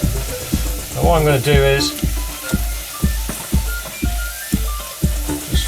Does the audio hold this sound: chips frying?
yes